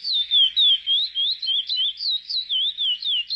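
Pet birds in a home aviary give a rapid series of high, warbling chirps. The tweets come close and clear with a steady rhythm and no voices.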